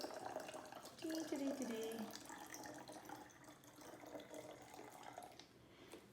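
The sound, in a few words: water being poured into a plastic water bottle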